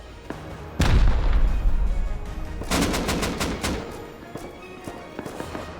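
Gunfire and rocket explosions during a raid in the video game Rust: a heavy boom lands early, then a rapid burst of shots follows, with scattered reports trailing off.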